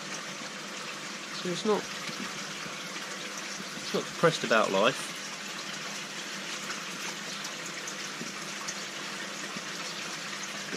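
Water from a shower-style feature pours steadily into a koi pond, a continuous outdoor splash running throughout while someone talks briefly over it.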